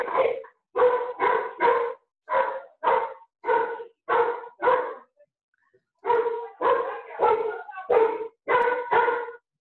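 A dog barks repeatedly over an open microphone, loud and close, in quick bursts of two or three with brief pauses, then a longer run of rapid barks after a short gap, with no talk over it.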